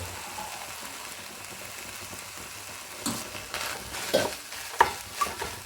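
Multi-millet noodles are stirred in a pan, a soft sizzle under scraping, with spoon clacks growing more frequent toward the end.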